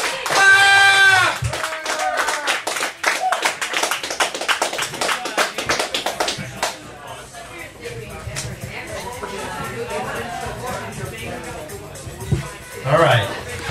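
An audience at a poetry reading claps, a quick burst of hand claps that thins into scattered taps and shuffling as a voice shouts over the start and talk continues through the rest.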